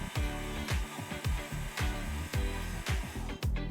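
The electric motor of a garage lift whirs in short, loud pulses with a rhythmic, ratcheting cadence, running steadily for a few seconds before cutting off as the lift stops itself at its bottom limit.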